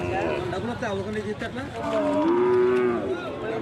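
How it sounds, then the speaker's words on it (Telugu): Young calves moo in drawn-out, rising calls close by at the Kodad cattle market, amid a crowd's chatter and general market noise. "ఇవి కూడా బుడ్డి దూడలు అన్న"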